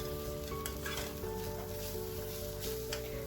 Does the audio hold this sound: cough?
no